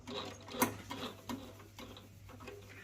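A sewing machine runs a short lock stitch on a sneaker upper during sneaker making, with a brief mechanical whir and ticking that peaks once and then settles into quieter clicks.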